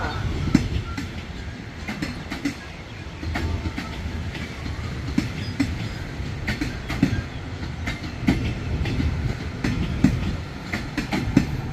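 The Uttarawithi special express, train number 9 from Bangkok to Chiang Mai, rolls past a station platform with loud continuous rumbling and rhythmic clickety-clack of wheels over rail joints, heard up close throughout.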